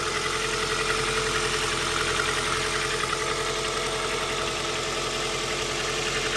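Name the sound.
car engine idling after warm-up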